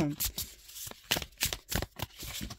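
A brand-new tarot card deck is shuffled by hand, with rapid riffling and flicking bursts of cards close by, several quick rounds within a few seconds.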